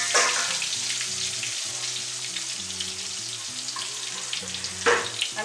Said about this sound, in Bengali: এগুলো কিন্তু সব ঘিয়ে ভাজা হচ্ছে।